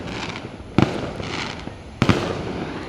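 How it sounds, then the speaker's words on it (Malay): Firecrackers and fireworks go off at night, with two sharp bangs over a continuous crackle of distant bursts. "Saya nak tengok tu orang main mercon."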